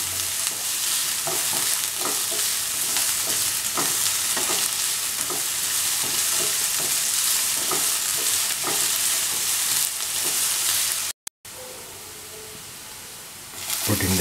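Mushrooms fry with ginger and salt in a pan, giving a loud, dense, continuous sizzle with stirring scrapes close up, briefly cut out near the end before resuming more softly.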